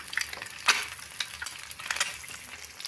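Egg frying in a pan, a few eggs cracked in beside green banana, crackles with a soft, steady sizzle, broken by a few sharper spatula scrapes and clinks up close, with no voices.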